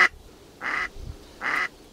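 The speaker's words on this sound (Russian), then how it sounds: "это семеновская утка. Семеновской, нижегородской породы." A Semenov breed decoy duck quacks three times, loud and close, each call a short raspy burst spaced roughly evenly over two seconds, with no talking.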